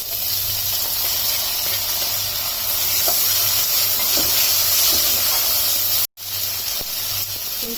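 Tomatoes and onions frying in a pan give a loud, steady hiss and sizzle with a few faint stirring taps, briefly cut off near the end before resuming; no voices.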